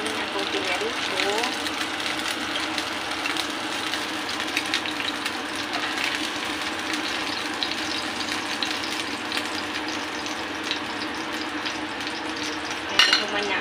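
Food fries in a pan, a dense continuous sizzle and hiss that stays steady and close throughout, with a low background hum and a brief clatter near the end.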